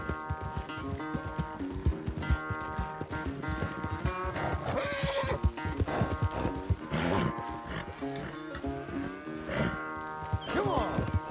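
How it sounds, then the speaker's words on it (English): Horses in the video game Red Dead Redemption 2 neigh and whinny repeatedly over clip-clopping hooves and other livestock calls, with game music or ambience layered underneath, fairly loud and busy throughout. "where's that big mean horse?"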